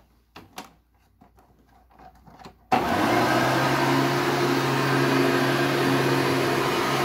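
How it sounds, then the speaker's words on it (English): A Hoover Turbo Power 2000 vacuum cleaner with its original belt switches on after a few quiet clicks and handling knocks, then runs with a loud, steady roar and whine that holds to the end. "I will give you a run of the Hoover Turbo Power 2000"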